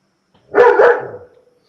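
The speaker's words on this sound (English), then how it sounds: "Whose dog's that?" A dog lets out a quick pair of loud, close barks that trail into a short rough tail, with no talking over them.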